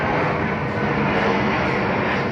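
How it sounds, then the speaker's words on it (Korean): Airplane passing low over apartment buildings near Gimpo airport, a loud, dense, steady engine roar filling the whole moment with no voices. "비행기 소리가 거의 귀청을 때립니다."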